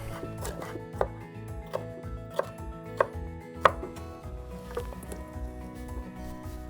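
A knife chops a green bell pepper on a cutting board, about eight crisp separate knocks at an uneven, unhurried pace, close and clear over a quiet kitchen background.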